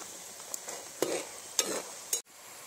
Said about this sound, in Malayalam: നല്ല ഫ്രൈ ആവണം, നന്നായിട്ട് ഫ്രൈ ആയി എടുക്കണം.